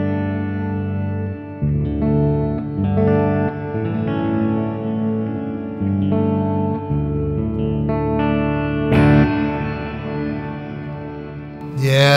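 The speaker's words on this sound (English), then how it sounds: "Yeah, it's really gorgeous reverb." Rich sustained chords played through a BOSS RV-6 reverb pedal with all knobs turned up full, the notes blooming into a long, lush wash of reverb that swells and changes at each new chord, with no talking.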